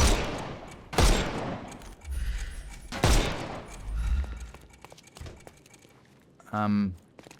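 Gunfire in the Sherlock Holmes Chapter One video game as enemies' armor is shot off: several sharp, loud shots among game effects and a clattering burst, with a voice talking under the action.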